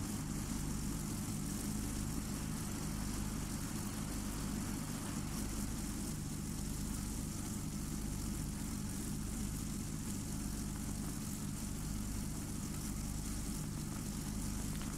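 A low, slow propeller plane in World of Warplanes flies with a constant, dense engine drone and propeller buzz that stays loud and unbroken throughout, with no voices.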